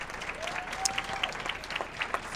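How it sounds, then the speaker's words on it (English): Applause from a college lecture audience thanking a professor, fairly faint and steady with scattered sharper claps, plus a brief tonal whistle-like sound partway through. "Give him a nice round of applause."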